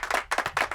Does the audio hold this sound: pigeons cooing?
no